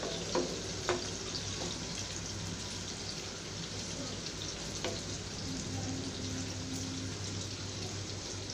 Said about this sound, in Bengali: এভাবে আমি ভেজে নেব বেগুনগুলো।